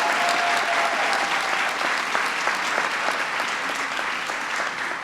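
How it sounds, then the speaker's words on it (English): An audience at a White House Salute to the Troops workshop applauds military kids with dense, steady clapping that holds through the whole stretch, full and fairly close. "Can I just hear a round of applause for the folks who are military kids?"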